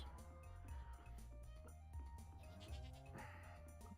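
Sheep in the farming video game Stardew Valley bleat in a few short wavering cries over soft game music, quiet and without speech.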